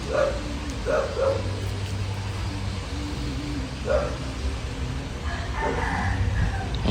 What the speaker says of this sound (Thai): หมาเห่า